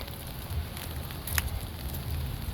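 Rain falls at a harbor with boats docked nearby, giving a steady soft patter and hiss with a few sharper drips and crackles, fairly close and moderately quiet.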